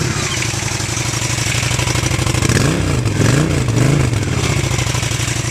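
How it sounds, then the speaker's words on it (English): Honda VT750S motorcycle engine starting, then settling into a close, loud idle with a lumpy low throb, followed by a few short revs that rise and fall. "Let's see what she sounds like when you first get her in gear."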